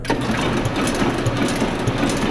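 A Ryobi 2800 offset printing press runs with its vacuum switched on, producing a dense, steady mechanical rattle and whir close by with no speech.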